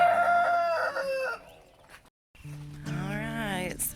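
A rooster in a backyard chicken flock gives a single close, loud crow near the end, after some softer bird calls and a short quiet gap.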